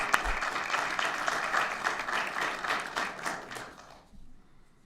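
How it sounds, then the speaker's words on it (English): A crowd applauding, steady dense clapping for about four seconds before quickly fading out. "Let's give him a round of applause."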